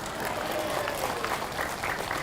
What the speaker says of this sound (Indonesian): Jangan asal tepuk tangan aja.